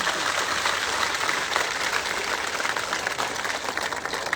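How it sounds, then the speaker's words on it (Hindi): A crowd at a political rally in Jalore claps in a sustained, fairly distant wash of applause that holds steady throughout, with no clear voices on top. "इसलिए जालोर के भाइयों के लिए जोरदार तालियां।"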